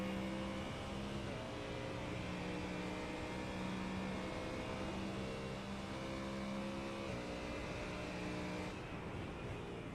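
A race car on a road course at the Roval, its engine droning steadily at mid distance with pitch shifts as it slows hard under braking, continuous and fairly faint with no talking.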